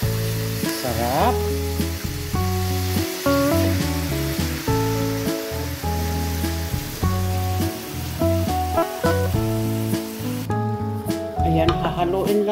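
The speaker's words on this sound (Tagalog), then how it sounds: "hahaluin lang natin at hayaan na masute yung karne" Meat for adobo sautéing in a pan, with a steady sizzle and bursts of stirring, under strong tonal background music.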